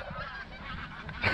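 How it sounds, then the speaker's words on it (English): Flock of geese flying south over water, honking repeatedly in overlapping calls, mid-distance and fairly clear, with one louder honk near the end. "Wow, there's tons of birds."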